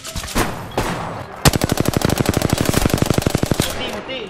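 A sustained burst of rapid automatic weapon fire in Apex Legends rattles loudly and evenly for about two seconds, preceded by a few scattered shots and game noise.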